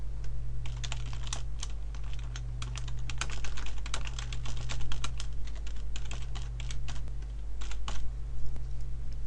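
Rapid clicking of a computer keyboard as a password is typed during a Windows 7 installation on a PC, keystrokes coming in quick uneven bursts close up over a steady low electrical hum, with no talking.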